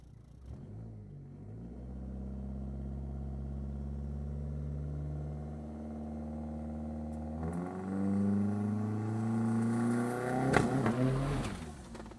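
A GSX car accelerates hard on a nitrous test hit, its engine rising in a long, strong climbing drone, then pulling through a gear change into a louder, higher surge.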